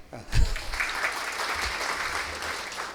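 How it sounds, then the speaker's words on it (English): A quiz audience at a regional round of a zone competition claps steadily for three seconds, a dense wash of hands filling the hall at moderate loudness. "So you should clap for that."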